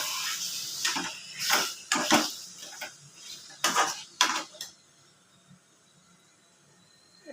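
Chicken meat is stir-fried in spiced masala in a pan, heard as sharp, irregular clinks and scrapes of a utensil against the metal in bursts, then trailing off into near quiet.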